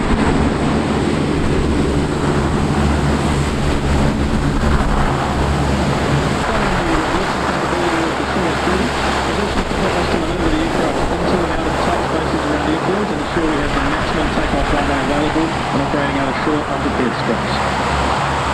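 A C-130 Hercules of the New Zealand Air Force lands at the Avalon Airshow with all four turboprop engines in full reverse, a loud, continuous roaring rush from start to finish with a commentator talking over it.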